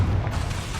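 A Confringo spell blast in Hogwarts Legacy, a single deep, loud booming burst that fills the moment and trails off briefly with no talk over it.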